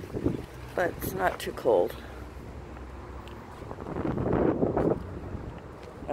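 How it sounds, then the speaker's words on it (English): Strong wind buffets the microphone outdoors near the water with rumbling low gusts, while someone talks briefly over it early on; the blustery roar swells again toward the end. "Very, very windy today."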